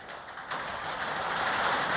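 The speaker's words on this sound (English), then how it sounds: "And it just started raining, so that's what that noise is." Rain starts falling on a tin roof in a workshop, a steady broadband patter that grows louder after the first half second and holds as a dense, continuous hiss with no voices.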